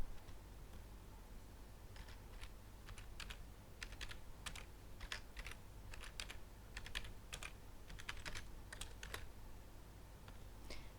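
Someone types a password on a computer keyboard, producing a steady run of crisp, close keystrokes with brief pauses between bursts and no talking.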